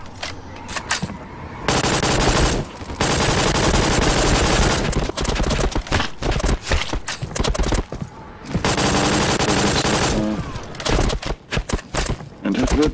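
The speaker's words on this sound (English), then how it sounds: "sniper man here in Soldat when he's shooting you, boom, he not shot you, boom" Gunfire from the 2D shooter game Soldat, with sniper shots among long bursts of loud, dense shooting that nearly fill the span, broken by short gaps, while a voice talks over parts of it.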